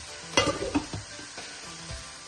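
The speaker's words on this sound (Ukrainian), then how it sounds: "Поки смажаться грибочки овочі, я ставлю варитися картоплю." Mushrooms and vegetables frying in a pan give a soft sizzle, with a few scraping stirs and light clinks of a utensil against the pan, close but fairly quiet.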